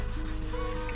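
Hand sanding flow coat paint on a car's door jambs, a brief, close, soft scratchy rubbing stroke.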